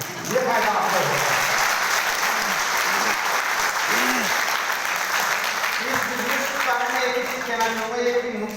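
Audience at a celebration program clapping steadily and loudly throughout, a dense continuous wash of applause with some voices mixed in.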